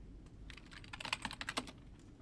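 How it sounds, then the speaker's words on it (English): Keys tapped on a computer keyboard in a quiet library, a soft, irregular run of clicks that grows busier and louder in the middle, heard alone. "my mentor tapping away at keys to find a man to kill"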